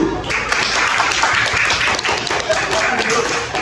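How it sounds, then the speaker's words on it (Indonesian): Children in a classroom clap for a classmate, a dense, steady patter of many small hands filling the whole moment, with some knocks and murmuring voices mixed in. "Tepuk tangan buat Hasbi dulu."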